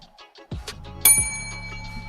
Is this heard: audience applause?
no